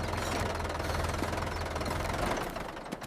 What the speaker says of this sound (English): The tractor is here!